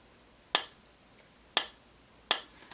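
Plastic makeup palette packaging is tapped three times, each a sharp, close click separated by about a second, against near silence.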